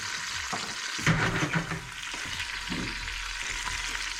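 Fennel seeds frying in hot vegetable oil with celery and carrots, a steady close hiss of sizzling with a few brief stirring bursts, no voices.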